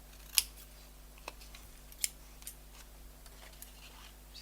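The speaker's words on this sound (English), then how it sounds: "So I'm going to cut that down, and all I'm going to do is cut diagonally." Scissors snip through paper on a diagonal, a few sharp isolated cuts spaced out over several seconds, close and crisp against a quiet room with a low steady hum.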